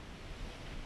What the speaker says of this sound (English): We got the highest surge coming up the beach